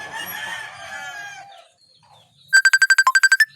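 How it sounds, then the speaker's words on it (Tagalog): After a rooster crows loudly nearby and fades, a mobile phone starts ringing for an incoming call, a rapid series of about ten sharp electronic beeps, close and clear. "Uy, nanawag si Banana oy"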